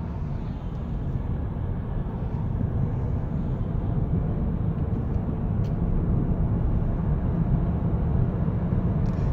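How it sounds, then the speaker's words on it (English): A Chevy Volt with an empty fuel tank is floored from 0 to 60, a loud, constant broadband roar that holds steady without a break and with no voices. "0 to 60, full throttle."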